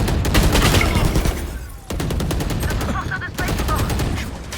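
Rapid gunfire in the video game Valorant, loud bursts of repeated shots in quick succession with a brief pause before firing resumes, with voices in the game.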